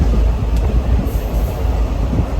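Inside a moving passenger train, a loud continuous rumble of wheels and carriage with low rattling and clatter, steady throughout with no talking.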